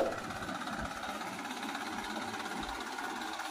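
Swaraj 744 FE tractor fitted with a rotavator runs with a steady, rattling diesel chug that stays at an even, moderate level for several seconds, with no speech.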